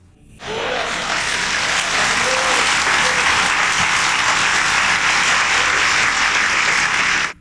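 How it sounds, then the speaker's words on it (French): Sustained applause from a church congregation, a dense even clapping that starts abruptly, holds steady and loud for about seven seconds, then cuts off. "Applaudissements."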